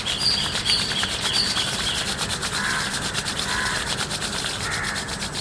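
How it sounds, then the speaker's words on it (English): Palms rubbing together during a yoga breathing session, a steady soft broadband friction that runs continuously and evenly throughout, close and alone, with faint bird chirps in the background. "Now slowly rub your palms."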